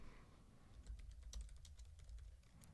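Rapid typing on a computer keyboard at a help desk website, a quick run of close, crisp key clicks with brief pauses, alone and fairly quiet.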